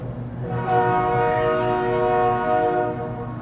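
A train horn blares in a long sustained chord over the low rumble of a passing train, loud and nearby.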